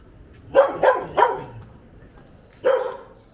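A neighbour's dog barks three times in quick succession, pauses, then gives one more bark, at moderate distance against a quiet background, in San Juan del Sur, Nicaragua.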